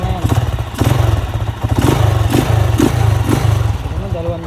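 A Honda TMX 155 motorcycle engine runs close by with a steady low rumble, broken by a few rhythmic thumps as it revs.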